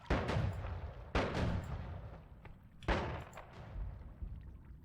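A magic wand in a video game sets off three booming explosions, each a sharp blast followed by a long rumbling decay, loud and close with smaller crackles in between.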